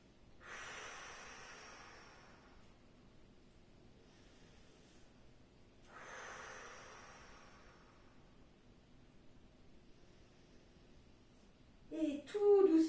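Two long, slow exhalations during a stretching session, soft airy breaths out several seconds apart with quiet between them, close to the microphone, followed by a brief louder rustle at the end.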